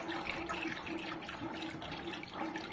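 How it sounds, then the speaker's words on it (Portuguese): Lye dissolved in water is poured into fat for homemade soap, a soft continuous pouring and splashing of liquid at low level, steady and close, with no voices. "Vamos colocar a soda agora."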